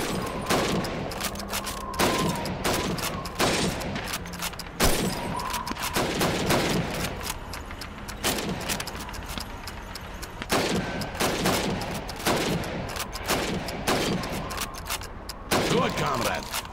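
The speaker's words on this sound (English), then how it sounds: "You have 15 seconds to shoot the helmets." Rapid rifle fire in a Call of Duty 2 training range, shots at helmet targets crackling in dense repeated bursts throughout, with a voice speaking over the gunfire.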